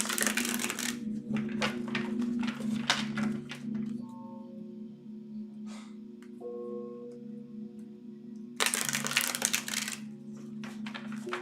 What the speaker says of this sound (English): Give me one moment while I shuffle the cards.